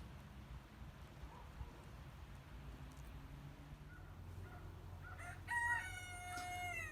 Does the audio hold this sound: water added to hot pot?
no